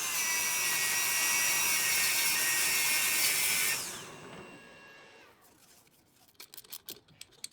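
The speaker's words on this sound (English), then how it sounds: "Next I'll mount the hub back onto the lathe and tidy up the recess." A metal lathe cuts the recess of a brass ship's-wheel hub with a loud, steady whine carrying high tonal ringing. After a few seconds the pitch drops as the machine spins down, followed by a few light clicks and knocks.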